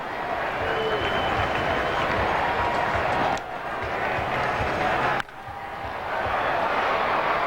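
Thursday afternoon baseball crowd at an A's game against the Red Sox in Oakland, 2003: a broad, steady roar of a large stadium audience with scattered clapping and cheering, briefly dipping twice before swelling again.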